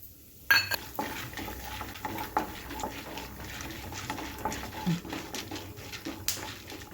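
Chana dal and peanuts tipped into hot oil in a pan: a sharp clatter as they hit, then a steady sizzle with light scraping and stirring of the pan, close and alone.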